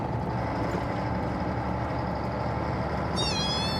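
One short meow from a newborn kitten comes near the end, over a steady rumbling background of traffic or engines.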